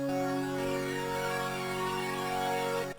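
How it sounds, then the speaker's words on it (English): A single airy synth chord from the Haunted sound bank sustains for about three seconds, smooth and steady with no talking, then cuts off abruptly. "This is the chord."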